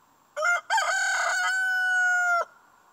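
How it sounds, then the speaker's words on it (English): A rooster on a small chicken farm lets out one loud, clear crow close by, a short opening note followed by a long drawn-out call, with no talking over it. "Then I get my wake-up call from Rudy the Rooster"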